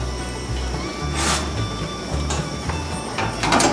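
A milking machine running on a dairy cow gives a rhythmic pulsing hum with recurring hissy bursts from its hoses, close and steady in a barn setting.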